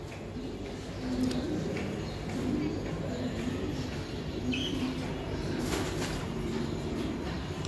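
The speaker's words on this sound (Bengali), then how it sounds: "অনেক স্পেশাল কবুতর দুটো" A pair of Giribaz high-flying racing pigeons coo softly in repeated low murmurs against a faint background hum, quiet and close.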